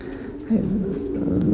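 Racing pigeons coo on arrival at the loft, soft low throaty calls repeating close by against faint background noise.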